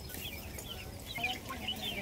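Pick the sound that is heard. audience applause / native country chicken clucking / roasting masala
native country chicken clucking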